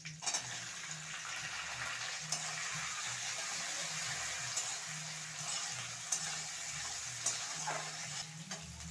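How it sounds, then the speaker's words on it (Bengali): Onion frying in a pan for chilli chicken, a continuous moderate sizzle with occasional sharp spatula taps and scrapes against the pan, with no voices. "পেঁয়াজটা দিয়ে আমি কিছুক্ষণ ভেজে নিয়েছি।"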